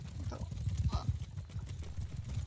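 Horse hooves clip-clopping in the Mount & Blade Bannerlord video game, a quick run of close, rhythmic hoof thuds that fades to quieter background game sound.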